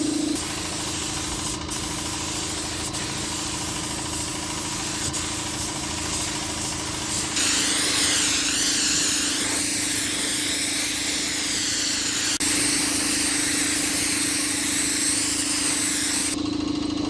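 Steady hissing spray gun laying thick black primer over a Datsun 280Z hood during restoration, a continuous broadband spray with a faint compressor-like hum underneath that grows slightly louder partway through.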